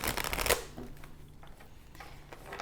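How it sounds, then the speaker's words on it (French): Tarot cards shuffled by hand, a quick papery riffle burst at the start that fades into soft card handling and quiet rustling. "laissez-moi brasser encore un petit peu plus"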